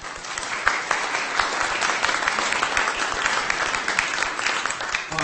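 Audience applause welcoming a tribal chief at a spring gathering: dense, steady clapping from a crowd, close and loud, lasting throughout with no voices over it.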